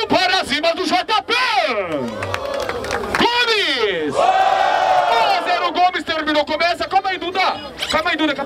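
A crowd at a rap battle in Barueri, São Paulo, roars and cheers loudly for the MC, with rising and falling shouts, whoops and chanting voices layered together, close and intense throughout.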